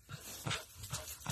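An injured mother dog guarding her pup pants and whimpers close by, with short, rhythmic breathy puffs and soft whines repeating every half second or so.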